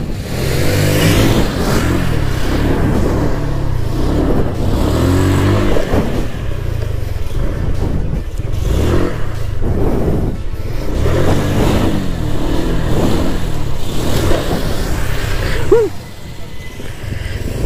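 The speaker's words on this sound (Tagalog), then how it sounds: "Ayan, ayan po ang slow wheelie." A stock motorcycle engine revs in repeated surges and dips during a slow wheelie, loud and close, the throttle pulsing rhythmically before easing off near the end.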